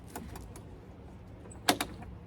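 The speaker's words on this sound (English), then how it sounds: "there's just like a hinge on the outside, and the door can be lifted up" A hinged wooden door on a duck coop swings and clatters as it is lifted, with a couple of sharp knocks near the end after faint rustling.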